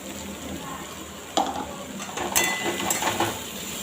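Chow chow stir-fry with coconut being stirred in a pan, with scraping clinks and soft sizzling, a few sharper utensil knocks near the end.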